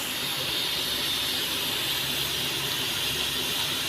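Small balls of athirasam dough fry in hot oil, giving a steady, loud, close hiss that runs unbroken from start to end, with no talking.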